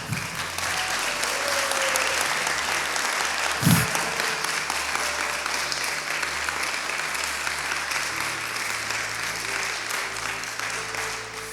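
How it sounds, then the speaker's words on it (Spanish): Spanish-speaking audience members at a storytelling event break into sustained applause, a dense, steady crowd of clapping hands that keeps up throughout, with a brief louder knock partway in and faint tones in the background. "quiero pedirles a ustedes, todos que son emigrantes, que le den un aplauso a Norgrelis"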